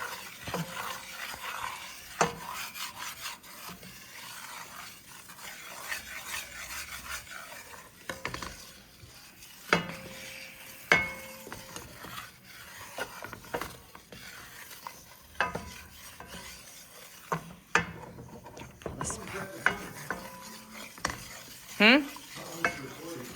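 A roux being stirred in a pan over lowered heat, already starting to stick in spots; a utensil scrapes and clinks steadily against the pan in repeated strokes over a faint sizzle, with no talking.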